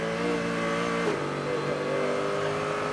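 A racing car engine in wet conditions holds a steady, loud drone, its pitch dipping briefly then climbing again as the throttle is eased and reapplied.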